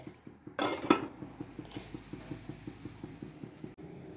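A lid is set over a palappam pan, giving a clattering metal clink and scrape near the start, then a steady rhythmic ticking of the pan for the rest.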